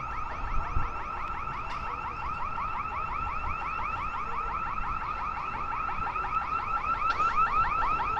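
Perimeter fence motion-detector alarm at the Treasury wailing outdoors, a fast repeating electronic warble cycling without pause at moderate distance, steady and loud over faint street background, with no one talking.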